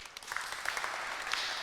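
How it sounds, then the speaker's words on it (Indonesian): Guests at a church wedding ceremony clap right after the bride is unveiled and kissed on the forehead. The applause is light and scattered, a moderate patter of hands heard in a room, steady throughout the brief moment. "Kita beri tepuk tangan."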